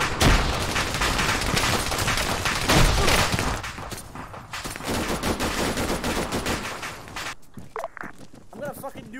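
Dense automatic gunfire and rapid shots rattle through an Arma 3 firefight, loud and sustained before thinning out near the end, with voices shouting over the battle.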